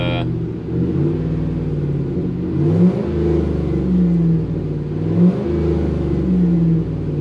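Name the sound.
car engine revving after jump start from truck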